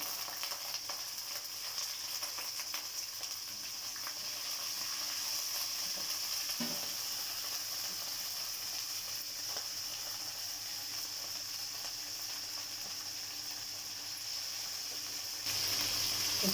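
Capsicum, carrot and broccoli frying in preheated oil for broccoli curry, a steady close sizzle that holds without pause throughout, no one speaking.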